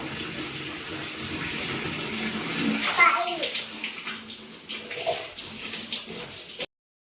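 Running tap water splashing steadily while someone washes their face, close and continuous, with a voice and some talking over it before the water cuts off abruptly.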